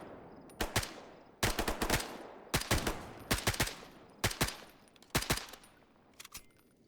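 Automatic gunfire in the shooter game S.T.A.L.K.E.R. GAMMA, bursts at a distance against a Unisig enemy, sharp clusters of shots repeating about every second with short pauses between volleys.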